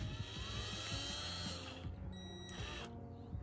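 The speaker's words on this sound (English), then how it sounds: "Let's drill some holes" A handheld power drill whirs steadily while boring screw holes during the installation of solar-powered string lights, its motor droning at a constant pitch before easing off near the end, with no talk.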